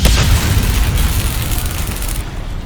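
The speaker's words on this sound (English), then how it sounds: "That is the sound of the Ethereum container blast ability during that" A blast ability from an Aetherium container in the Cold War Zombies Outbreak game sets off a loud, booming burst that dominates the start and then trails into a sustained rumbling decay, with no voices.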